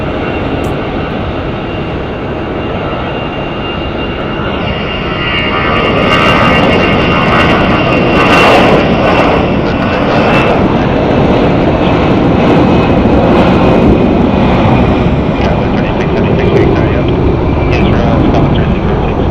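An American Airlines airliner bound for Palm Springs takes the runway at Phoenix Sky Harbor, its engines a loud, broad roar that swells after a few seconds and holds steady.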